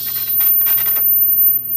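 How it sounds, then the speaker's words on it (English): Fingers handle and turn a plastic knob on a Crown CSC-850f boombox, a brief scraping rattle lasting about a second, then quiet under a steady low hum. "this is just a plastic knob"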